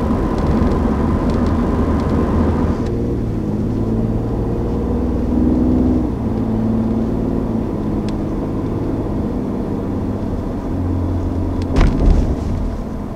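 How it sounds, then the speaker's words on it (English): A 2020 Ford F-150 Raptor drives along inside a quiet cabin, its 10-speed automatic stepping through gears with stepped shifts in the engine hum and a soft whine, low and steady with no voices. "I'm sure as you can hear so far throughout this drive, it absolutely fires the shifts off"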